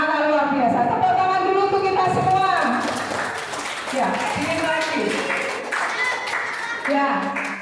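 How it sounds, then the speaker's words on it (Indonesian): A group of children clap their hands together in a scattered, uneven burst, mixed with voices speaking over and around the clapping. "Tepuk tangan dulu untuk kita semua"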